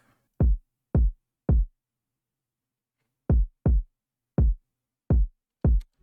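Deep electronic kick drum for an emotional beat-switching hip-hop track, eight solo hits in an uneven pattern: three evenly spaced, a pause, then five more, each thumping loud and low with a quick decay.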